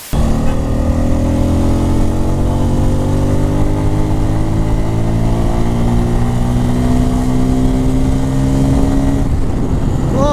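A motorcycle rides along a city road in Bangladesh, its engine droning loud and close with a slowly rising pitch as it accelerates, then easing off near the end, with no talk.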